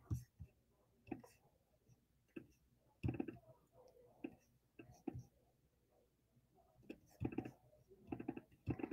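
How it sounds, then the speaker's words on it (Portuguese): Computer mouse double-clicks made while editing a design in Canva, heard as soft, close paired clicks scattered through quiet background noise. "eu dou dois cliques na tela"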